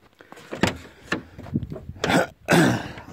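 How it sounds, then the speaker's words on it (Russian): Hood of a Citroën Berlingo being opened up close: a series of sharp metallic clunks and rattles from the latch and panel, with louder knocks toward the end and no voices. "вот сейчас открою капот."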